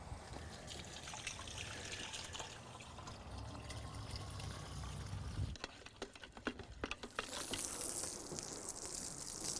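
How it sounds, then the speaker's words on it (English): Penofin Pro-Tech wood brightener, a crystallized product, is poured into a gallon of water, giving a steady close trickle and gush of liquid that continues alone for several seconds. "you're going to pour in approximately 2 cups to a gallon of water"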